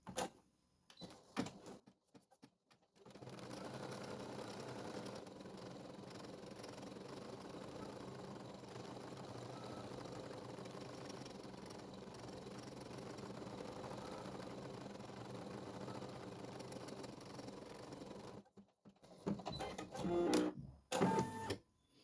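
An embroidery machine with a 13x18 cm hoop stitches the nose outline on a plush lovey, a steady, fairly quiet mechanical whirring that runs unbroken for most of the stretch, with brief clatters at start and end.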